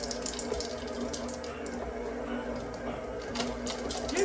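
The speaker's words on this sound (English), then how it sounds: "Getting a little bit of mixer bobble here." A steady, busy whir from an OSTBA stand mixer folding morsels into dough, with a faint rattling bobble running throughout at a constant level, close by, and a voice talking over it.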